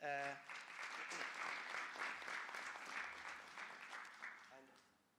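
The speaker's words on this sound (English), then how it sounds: "So, a warm applause for all the panelists." Applause from a seminar audience in Istanbul greeting a panel of speakers, a steady burst of clapping lasting several seconds before fading, with brief voices at the start and end.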